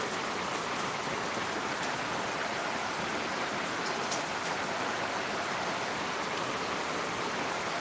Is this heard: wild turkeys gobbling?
no